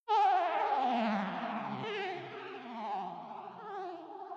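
Modoc, a textural pad from the CMIV virtual instrument, enters as one sustained, wavering tone with a warbling shimmer that slowly thins and fades over several seconds, moderately quiet and alone.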